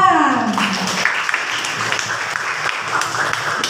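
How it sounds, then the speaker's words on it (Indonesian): A primary-school class in Indonesia applauds, with broadband clapping that runs steadily throughout and a brief voice-like sliding tone at the start. "Hebat semuanya, tepuk tangan."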